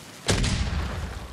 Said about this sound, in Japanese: 鉄ハウ、爆発して周りにダメージを与える。